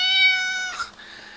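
A single close, clear cat meow indoors, drawn out and tonal, followed by a brief rustle and quiet room tone.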